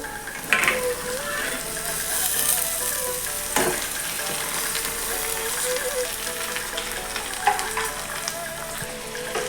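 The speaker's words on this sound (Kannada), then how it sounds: "ಫ್ರೈ ಆಗ್ತಾ ಬಂದು ಅಲಸಂಡೆ ಹಾಕಬೇಕು." Cowpeas sizzle steadily while frying in a pan for a Karnataka-style palya, a continuous close crackle with occasional scraping clicks of stirring.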